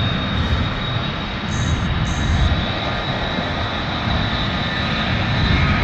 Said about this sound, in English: That's a small ass plane, that is.